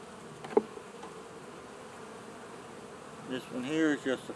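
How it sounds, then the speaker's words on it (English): A low, steady hum of honey bees on hive frames drones throughout, with a few brief louder buzzes passing close near the end. "Bees with pollen."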